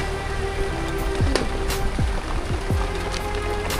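Steady rain falls and patters on surfaces in a Mumbai slum, a continuous hiss broken by a few sharper drips and knocks, with no speech.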